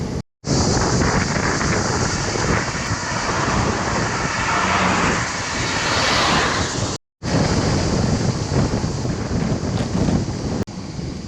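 Loud, continuous wind roar buffeting the microphone of a fast-moving road bicycle, steady and broadband, with a brief cutout partway through; no voices.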